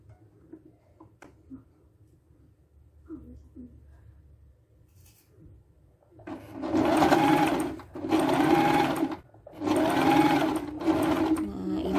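Close, loud sewing machine stitching a fabric 3D mask in three steady runs with brief pauses between them, after quiet fabric handling at the start.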